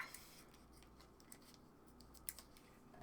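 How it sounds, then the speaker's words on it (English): Scissors snip through a rubber balloon, leaving a few faint, quiet cutting clicks spaced across a nearly silent background, with a sharper snip at the very end. "I'm going to take my scissors and I'm going to cut it"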